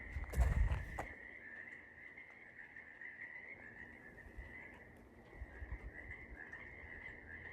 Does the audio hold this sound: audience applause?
no